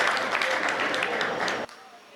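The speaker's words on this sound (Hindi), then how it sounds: "एक बार तालियों से मुझे आदेशित कर दें।" Audience applause at a Hindi poetry recital, a dense sustained patter of clapping that fills the hall for about a second and a half and then cuts off abruptly into quiet room tone.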